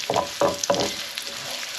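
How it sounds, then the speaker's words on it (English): Shallots frying in a pan, heard as a short close sizzle broken by a few quick stirring scrapes, with no talk. "So I'm just going to start cooking off these shallots."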